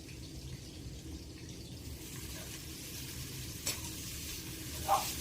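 Chopped onions, three medium ones, sizzle in hot oil in a pan with a steady low crackle and a couple of brief stirring knocks, fairly quiet and with no voices.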